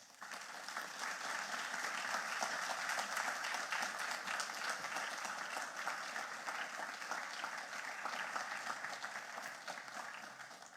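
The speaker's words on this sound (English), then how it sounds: "I think the Vice Chancellor deserves another round of applause." Sustained applause from a lecture audience honouring a Barbadian historian and Vice Chancellor, a dense, steady wash of many hands clapping that stays loud throughout and tapers slightly at the end.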